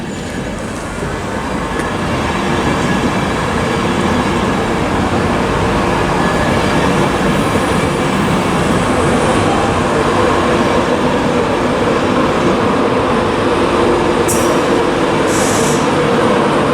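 A Class 91 electric train rumbles loud and steady across a viaduct at Durham on the East Coast Main Line, a continuous broad roar of wheels and rail with faint high squeals late on, no talk.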